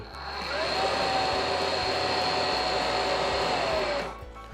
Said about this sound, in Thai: เพียงแค่เปิดเครื่องนะครับ ตัวนี้ก็ใช้ฟังก์ชันดูดได้เลยนั่นเอง